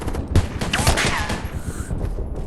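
Machine gun fire in the WW2 shooter video game Polyfield crackles in rapid loud bursts over a busy battlefield mix, with faint game background sound between the volleys.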